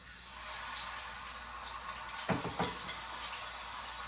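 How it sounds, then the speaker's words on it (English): A portobello mushroom laid face down in a hot skillet, giving a steady broadband sizzle with a short burst of louder crackling and a couple of soft contact knocks as it settles. "I'm going to put it into the skillet. Face down."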